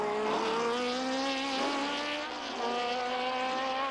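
Can-Am race cars of the 1985 season roar through the S's at Mosport Park, a loud, sustained engine wail whose pitch rises and falls as the cars shift and pass, heard at a distance over the circuit.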